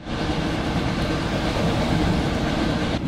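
A train rolls along the rails with a continuous, close, loud rumble and rattling wheel noise, steady throughout and with no talking.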